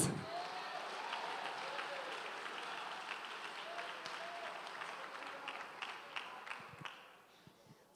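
A church congregation applauds at a Portuguese-language service, a broad steady wash of clapping that fades toward the end.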